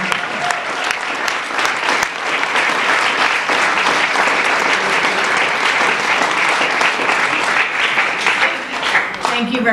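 A roomful of people in a legislative chamber give a sustained round of applause celebrating the next 50 years, dense and steady clapping for nearly ten seconds that thins slightly at the very end.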